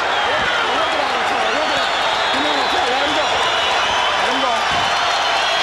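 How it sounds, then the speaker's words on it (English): A boxing arena crowd on its feet applauding and cheering, a dense, loud, continuous roar of clapping and voices, with a commentator's voice mixed in. "Crowd on its feet in proper tribute"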